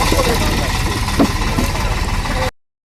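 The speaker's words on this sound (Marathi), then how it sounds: "मकाचा ट्रॅक्टर चालला आहे" A tractor engine runs at the Nandgaon onion auction market, a steady, close, low idling rumble that holds evenly, with murmuring voices in the background.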